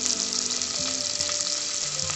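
Ginger, cashews and black pepper sautéing in a pan for venpongal, a continuous close sizzle with a faint background hum and occasional light stirring clicks.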